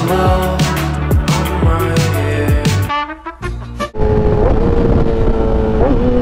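A Yamaha R6 track motorcycle with slick tires roars through rapid revs and downshift blips on a street, then settles into a steady engine drone with wind rush, loud and close.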